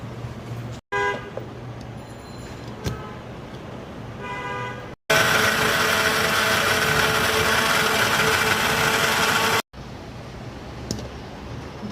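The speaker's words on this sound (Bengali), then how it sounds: "ডাঁটা শাকটা সেদ্ধ হয়ে গেছে, এখন আমি ব্লেন্ড করে নিচ্ছি।" A blender whirs through boiled stem amaranth greens in a loud, steady burst of about five seconds, between quieter stretches of kitchen background.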